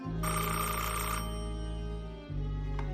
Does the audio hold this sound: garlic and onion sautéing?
no